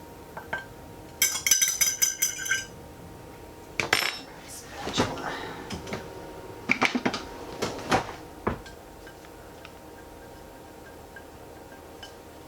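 Metal pan and utensils clatter in a small RV kitchen while eggs are being cooked: bursts of clinks and knocks, some sharp and close, then quieter scattered taps trailing off into a faint hum.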